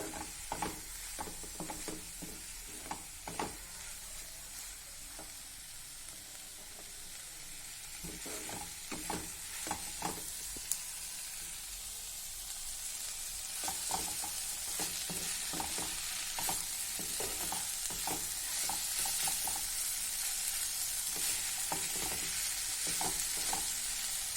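Masala okra (bhindi) frying and being stirred in an open pan over a low flame, giving a steady sizzle broken by repeated scraping stir strokes throughout, with no talking.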